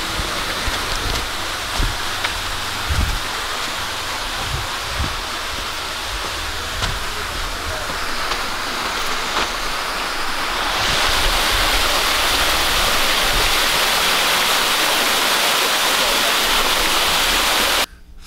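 Steady, broad rushing water from Muddy Creek Falls fills the whole clip, a constant roar that swells slightly louder in the second half before stopping abruptly.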